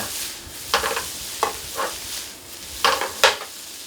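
Brief bursts of stirring and sizzling as rice noodles are stir-fried with sesame oil in a hot pan, a few scrapes spaced irregularly over a low background hiss.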